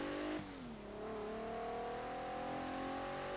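In Forza Horizon 3, a 2016 Cadillac ATS-V's twin-turbo V6 revs up, drops sharply at an upshift early on, then pulls steadily upward, loud and close with no voices.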